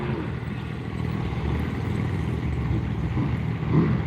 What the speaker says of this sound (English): there's that old outboard